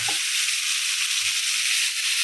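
Sprouted moth beans tipped into a pan of frying onions and peas give a steady, close oil sizzle, loud and constant throughout with no talking.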